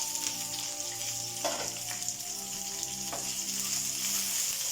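Onions sizzle steadily in a hot pan, a continuous close-up crackle with a few soft stirring scrapes and no talking.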